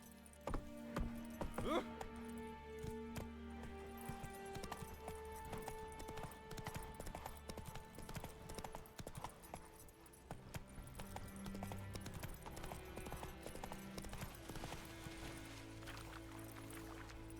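Rhythmic hoofbeats of a galloping horse in The Witcher 3, steady clip-clop under game music with a brief whinny and some voices.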